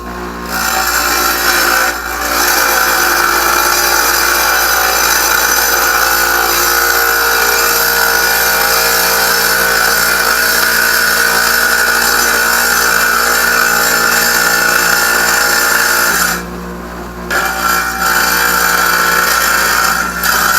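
An electric wet tile saw cuts floor tile for a dining room floor, a loud steady whining drone running for about twenty seconds with one brief dip near the end.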